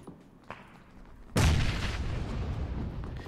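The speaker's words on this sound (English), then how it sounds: "he's trying to nade me" Grenade explosion in the PUBG video game: a quiet stretch with a faint pop, then one loud, close boom that hits sharply and leaves a long, rumbling, slowly fading tail.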